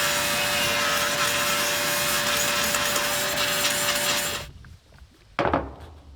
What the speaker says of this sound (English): I'm doing my best not to light it on fire by sucking up the sparks in the process.